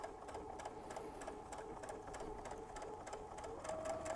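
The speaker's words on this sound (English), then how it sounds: "Okay, I just finished the little back stitch." A sewing machine stitches fabric for a Dresden plate quilted pillow, running in a fast steady rattle of needle strokes, close and even, with a brief high whine near the end.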